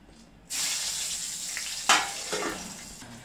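Slit green chillies dropped into about four ladles of hot oil with a spoon of asafoetida, bursting into a loud, steady sizzle after a brief quiet, with a sharp crackling flare midway.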